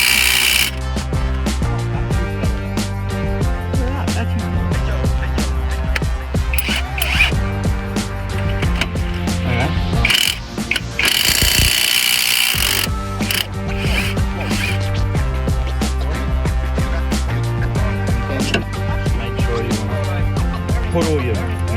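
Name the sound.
tools removing a tie rod on a Ford Falcon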